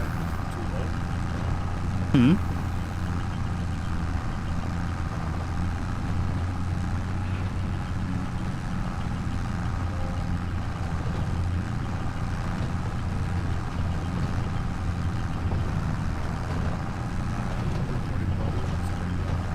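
A Farming Simulator 25 vehicle engine drones steadily and loudly throughout, a constant low mechanical hum in a multiplayer game session, with a brief sharp blip early on.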